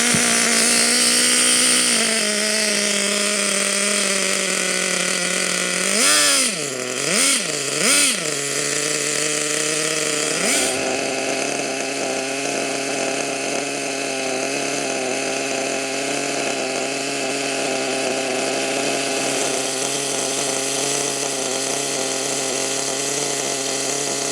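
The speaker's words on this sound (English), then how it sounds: "Watching that engine come alive for the first time in years, it's an amazing feeling" An HPI Savage nitro RC truck engine, just rebuilt and running after years unused, holds a high idle with a steady, buzzing whine, briefly wavering and blipping before settling into a constant, loud drone.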